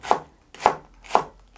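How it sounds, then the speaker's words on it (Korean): Three crisp, close knife chops land on a cutting board as a green onion is sliced diagonally for a stew topping, each about half a second apart in a quiet kitchen. "그냥 어슷어슷 이렇게 잘라주세요."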